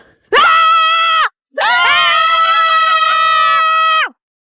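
A person screams in two long, loud, sustained bursts with a short gap between them, harsh and close, in an animated cartoon scene.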